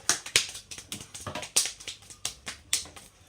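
Fast hand clapping makes a quick, irregular run of sharp, snappy claps at close range, each crisp and short, with no voice over it.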